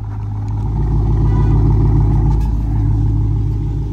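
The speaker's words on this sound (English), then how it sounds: "Damn, bro, did she just put it in gear?" A car engine idling and rumbling steadily close by as the driver shifts into gear, with a deep continuous drone and slight rise in revs, no voices over it.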